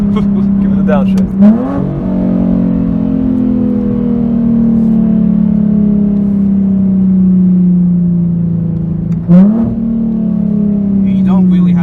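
A modified 2011 Infiniti G37xS coupe engine drones steadily inside the cabin, with two sharp blips as it downshifts and the pitch jumps, loud and close, while occupants talk briefly in between.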